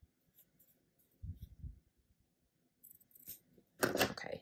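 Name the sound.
trimming fabric edges of a quilt block unit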